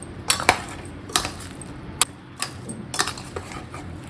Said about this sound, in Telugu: ఉప్పు, కారం, చింతపండు బాగా మిక్స్ అయ్యేటట్టు ఉసిరికాయల్లో కలిపేసుకోవాలి.